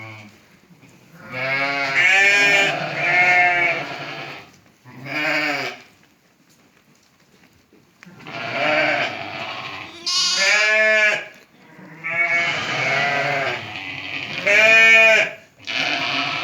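Sheep and lambs, including newborns and growing lambs, bleat on a farm, loud wavering calls that come in several overlapping bouts with short gaps, close by and alone.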